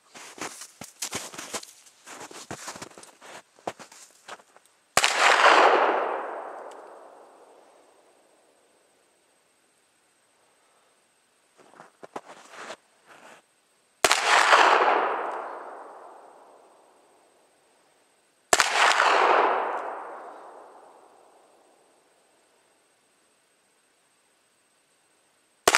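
Three loud revolver gunshots at an outdoor shooting range, each a sharp crack with a long decaying echo, separated by handling clatter and quiet pauses.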